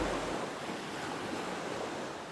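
Ocean surf washes continuously outside a beachfront house set into sand dunes, a soft, steady wash of distant waves with light wind, no voices.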